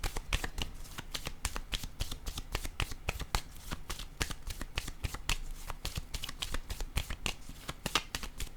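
Tarot cards being shuffled in a steady stream of crisp riffling snaps and slaps, close and continuous without pause, with no voices over them.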